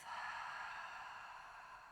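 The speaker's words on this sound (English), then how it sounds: "And exhale through the mouth." A long, soft exhale through the mouth during a Pilates hip stretch routine, a breathy airy rush that starts at full strength and fades gently over about two seconds, close and quiet, with no talking.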